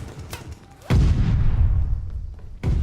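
STG-44 assault rifle fire in the video game Call of Duty: Vanguard, loud booming bursts with one at the start, another just under a second in, and a third near the end, each followed by rumbling decay.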